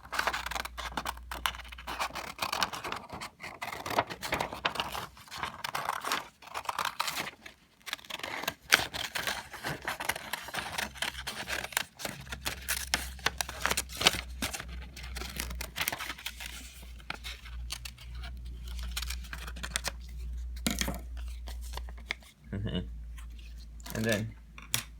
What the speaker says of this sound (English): Okay, continuing on, we cut this circle out.